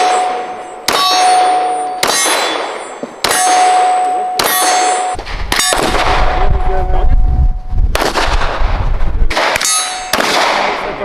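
Nine-millimetre pistol-caliber carbines firing at a range, a run of loud, sharp single shots with ringing metallic clangs between them, plus a denser rumbling burst in the middle, close and dominant.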